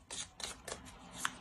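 Tarot cards shuffled by hand in short riffling bursts, four or five quick crisp flutters close to the microphone, quiet and with no talk.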